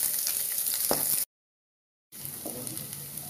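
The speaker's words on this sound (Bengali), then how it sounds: "এখন রসুন পেঁয়াজগুলো ভাইজালাম।" Garlic and onions fry in oil in a pan with a soft, steady sizzle, close and fairly quiet, broken by a short gap of silence.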